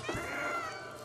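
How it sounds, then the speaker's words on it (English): Cat meow in the video game Stray, one brief drawn-out call heard close and clear over a soft steady background. "Circle to meow."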